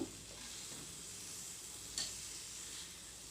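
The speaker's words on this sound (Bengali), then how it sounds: "তো আমি আরও কিছুটা সময় শাকগুলোকে ভাজা ভাজা করে নেব" Water spinach greens fry in a pan with a steady, soft sizzle and hiss, quiet and continuous, with one brief stirring scrape partway through.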